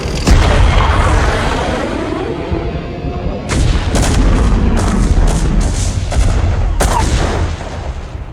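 Artillery firing in StarCraft, in a Protoss campaign mission: heavy booming cannon shots over a dense, roaring battle din, with several sharp blasts in quick succession midway and another loud report near the end.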